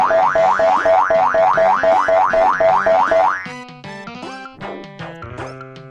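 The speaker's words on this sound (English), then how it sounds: "those lemmings were just like boing, boing, boing, boing, boing" Rapid, bouncy cartoon boing effects from the video game Lemmings repeat in a quick steady rhythm, then give way to a looser jumble of plinky game tones.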